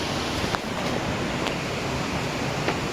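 Monsoon stream water rushing near a temple at Sundha Mata: a dense, steady broadband wash of flowing water, loud and close, with faint wind buffeting and no voices.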